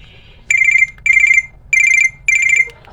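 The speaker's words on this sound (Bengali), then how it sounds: "চলুন দেখে নেই যে এই ফোনটির যে মূল রিংটোন কত পিস আছে এবং কেমন ছিল এর সাউন্ড" Four short bursts of a bright chiming ringtone from an Icon i52 mobile phone, each about a third of a second long with brief gaps between them, loud and close over a quiet background.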